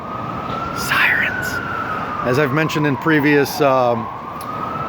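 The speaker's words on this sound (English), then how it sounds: "it's impossible to make a phone call in New York City without being interrupted by sirens" An emergency vehicle siren on a New York City street wails and sweeps up and down, running steadily beneath a man's speech.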